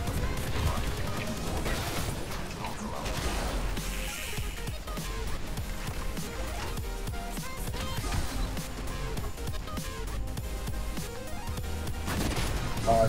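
Gunfire in the video game Titanfall, dense crackling shots and crashes under a continuous busy mix of game sound, with some talk woven through.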